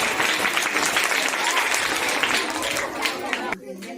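Applause at a primary school costume show, a full steady round of clapping from the gathered audience with some crowd chatter, ending sharply near the close with a few scattered voices.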